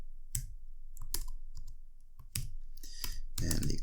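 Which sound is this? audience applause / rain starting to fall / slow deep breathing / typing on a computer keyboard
typing on a computer keyboard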